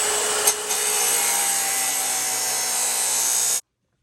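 A saw cutting through metal pipe for an exhaust build on a Fummins project: one continuous loud, bright grinding rasp for about three and a half seconds, with a small bump near the start, ending abruptly into silence.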